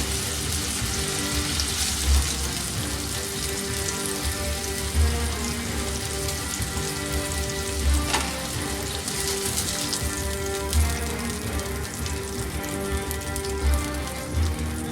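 Eggs frying in hot bacon fat for a brisket breakfast, a loud, continuous crackling sizzle with occasional sharper pops, steady throughout and free of voices.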